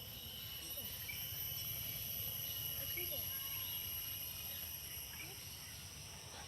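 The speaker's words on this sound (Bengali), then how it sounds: "বনের ভিতরে ঢুকলে এই ঝিঝি পোকার যে একটা ডাক, সেটা অনুভব করা যায়" Crickets in a sal forest keep up a steady, faint high drone with no break, under a low background murmur among the trees.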